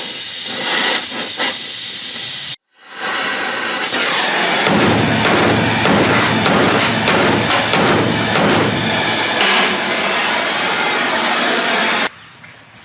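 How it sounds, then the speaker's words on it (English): Hot metal hoop being worked on a NASCAR project car, a loud steady hiss of heat dominating, then a run of rhythmic sharp hammer strikes over the hiss before it cuts off. "Once it was hot, the hammer took over."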